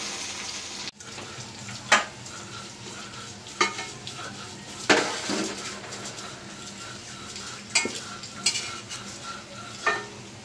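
Prawn fritters frying in hot oil give a steady close sizzle, broken by several sharp clinks and scrapes of stirring.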